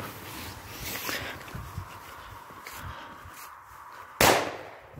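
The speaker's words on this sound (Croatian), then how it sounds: "vrlo mala, ali vrlo jaka petarda, a to je Fiesta" A small but strong Fiesta firecracker goes off under a phone with one loud, sharp bang near the end, preceded by a few soft knocks and rustles at close range.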